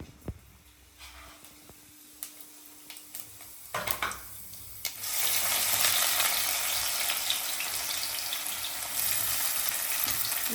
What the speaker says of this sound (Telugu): నూనె వేడెక్కింది, ఇక పోపు గింజలు వేసుకుంటున్నా.